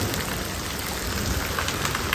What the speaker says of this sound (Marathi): फुल पाऊस